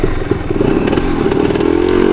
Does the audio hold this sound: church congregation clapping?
no